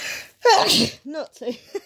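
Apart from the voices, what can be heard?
a person sneezing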